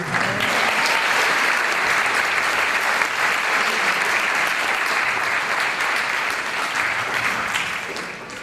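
A full audience bursts into sustained, loud applause at a medal award ceremony, an even wash of clapping that holds steady for several seconds before easing slightly at the end.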